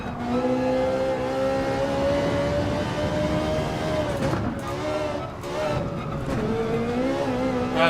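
A Ferrari 458 GR.3 race car in Gran Turismo 7 roars at high revs through a corner, its engine note rising and dipping with gear changes and a brief tire squeal. Someone talks over it.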